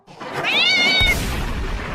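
A cat gives one drawn-out, high meow that rises and then fades, followed by a low rumbling thud.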